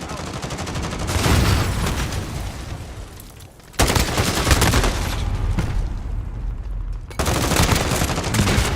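SMG hip-fire in a video game, fast, loud bursts of automatic gunfire in three long stretches separated by brief pauses, with faint talk underneath.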